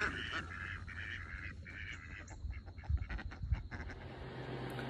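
Ducks quacking in a loose, overlapping flock, fairly close, with scattered bursts of calls over a steady outdoor background.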